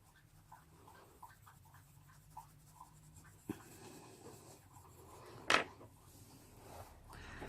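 A Polychromos coloured pencil is rubbed over paper in soft, steady scratchy strokes, faint and close, with an occasional small tap or knock.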